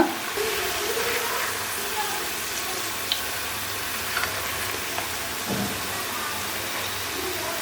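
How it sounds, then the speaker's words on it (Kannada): Garlic raw banana kebabs frying in a pan over a medium flame, giving a steady, continuous sizzle with occasional small pops and spatters throughout. "ಜಾಸ್ತಿ ಹೈ ಫ್ಲೇಮ್ ಕೊಡಬೇಡಿ ಸ್ವಲ್ಪ ಮೀಡಿಯಂ ಫ್ಲೇಮಲ್ಲೇ ಚೆನ್ನಾಗಿ ಬೇಯಿಸ್ಕೋಬೇಕು"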